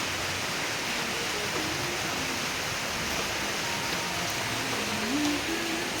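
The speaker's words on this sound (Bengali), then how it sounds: "ভালো জোরে বৃষ্টি হচ্ছে আজকে" Heavy rain pouring steadily in the late afternoon, a dense even hiss of falling water with a faint tonal sound drifting in the background, no talk.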